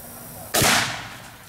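A single loud report from a hundred-year-old World War I firearm, a sharp broadband blast that rings out briefly before fading over about a second, with no talk.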